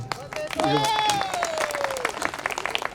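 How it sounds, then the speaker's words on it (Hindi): Crowd applause at a BHEL Bhopal poetry performance rolls on throughout, a mass of quick claps with a voice rising and trailing over it, then thinning toward the end. "जोरदार तालियां।"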